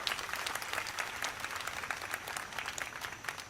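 A crowd at a political rally in Baramati applauds in a steady, dense wash of clapping heard from some distance, sustained throughout without pause.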